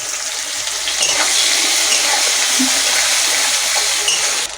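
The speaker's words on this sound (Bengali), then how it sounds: "এবার পেঁয়াজ কুচিটা দিয়ে আমি লাল লাল করে ভেজে নেব" Chopped onions fry in hot oil over cumin seeds in a home kitchen, producing a loud, steady hissing sizzle that runs unbroken throughout, with no voices.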